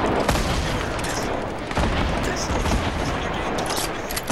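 Chaotic gunfire from the video game Fortnite: repeated shots and booming blasts in quick succession, with players talking over it.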